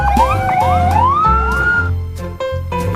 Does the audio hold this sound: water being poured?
no